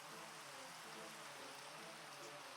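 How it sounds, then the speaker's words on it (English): Steady, even rain hiss in Minecraft fills the whole moment at a quiet level, with no breaks and no voices over it. "And of course, it's going to rain."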